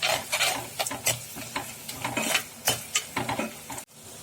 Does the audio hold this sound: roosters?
no